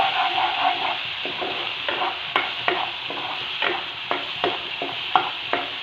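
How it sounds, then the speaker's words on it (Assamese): Mustard seeds fry in hot oil in a pan with a steady sizzle, broken by frequent sharp pops and crackles at an irregular rhythm, close and moderately loud, with no talking. "এতিয়া সৰিয়হখিনি মই ভাজি ল'ম।"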